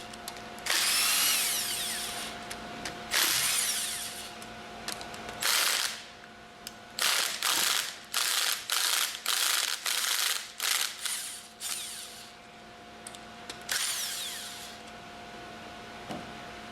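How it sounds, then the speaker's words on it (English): An impact wrench loosens the manifold bolts on a General Pump pressure-washer pump. Several loud, rattling bursts of varying length come in quick succession, with short pauses between them and no talking. "Use the impact wrench to loosen the remaining bolts in the order demonstrated."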